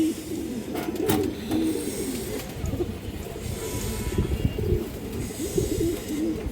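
Several colourful fancy pigeons, a Bagha pair among them, coo in a low, throaty, repeated rhythm close by, with overlapping calls from more than one bird and no talking.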